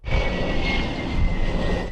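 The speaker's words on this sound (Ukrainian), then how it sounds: "У небі над Швецією здіймається літак раннього попередження та управління АС 890 більш відомий як СААП 340" A Saab 340 airborne early warning and control aircraft flies over Sweden, its engines giving a steady, loud droning roar with a faint high whine, holding close and even for two seconds.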